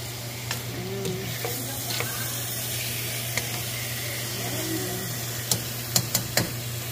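Chicken gizzard and liver sautéing in a pan, a steady soft sizzle with a low hum underneath and a few faint clinks of stirring.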